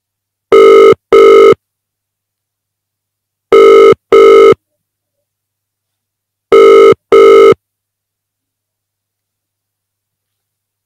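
Telephone ringback tone on an outgoing call, three double-ring bursts evenly spaced with silence between, clear and alone with no talking.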